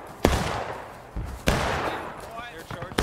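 Musket shots from the Civil War game War of Rights crack out in scattered reports, some loud and close, others fainter, with battlefield clamour filling the gaps.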